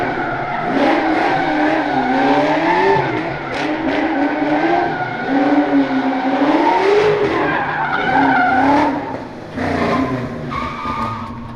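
A drift car at a TX2K event slides through a session, its tires squealing in long wavering wails over a revving engine. The sound is loud and close, with brief dips between slides.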